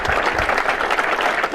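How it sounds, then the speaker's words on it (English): Applause from a baseball team in a Yankees locker room, a steady wash of many hands clapping close by, dense and continuous throughout with no voices standing out. "team in the locker room applauded for their new player"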